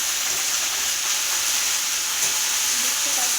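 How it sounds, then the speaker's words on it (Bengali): Red amaranth greens and mixed vegetables fry in a kadai, giving a continuous, even sizzle heard up close without a break. "তারপর আমি একটু করে ভাজতে থাকবো"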